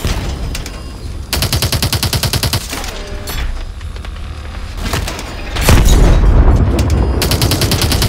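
Rapid automatic gunfire in Call of Duty: Advanced Warfare, with loud rattling bursts broken by short pauses, then a heavier, booming stretch of sustained shooting close by.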